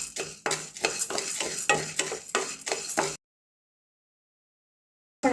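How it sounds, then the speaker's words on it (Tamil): Toor dal (pigeon pea lentils) being dry roasted in a pan, a close, steady scraping and rattling of stirred grains for about three seconds, followed by silence and a brief return at the end. "நம்ம துவரம் பருப்பை வறுக்க போகிறோம்"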